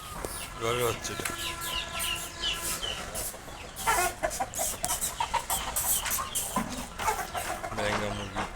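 Farm chickens clucking and calling close by, short bursts scattered through a busy scene, with people talking over them throughout.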